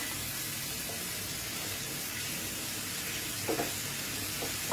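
A little water goes into a hot pan of frying ginger and spices, giving a steady, close hiss of sizzling with a couple of soft bursts near the end.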